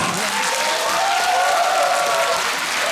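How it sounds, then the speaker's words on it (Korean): Audience in a cultural hall applauding during a singer's invited concert performance, steady full clapping throughout with a few voices shouting faintly underneath. "박수 한번 주세요."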